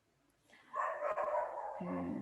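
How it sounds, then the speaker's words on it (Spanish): A small dog barks steadily somewhere in the background, a sustained yapping that stays moderately loud, with no talking over it. "hay un perrito ladrando"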